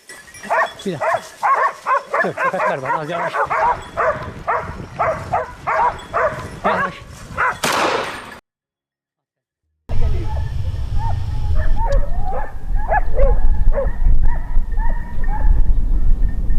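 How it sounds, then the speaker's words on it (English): A hunting dog barks repeatedly at a wounded mature wild boar during a hunt, rapid close barks in a steady run, then a brief silence before more distant yelping barks over rumbling noise. "The brave hunting dog never leaves its prey."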